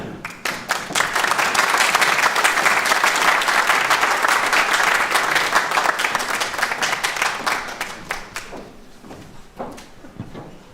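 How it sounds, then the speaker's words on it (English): Graduation ceremony crowd clapping for graduates, dense sustained applause that swells quickly and holds strong for several seconds before thinning into scattered claps near the end. "Round of applause for all the HNCs."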